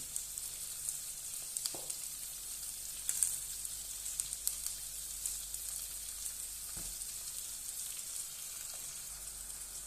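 Onion sautéing with salt in a pan, a continuous soft hissing sizzle, close but quiet, with occasional faint spatula scrapes and taps.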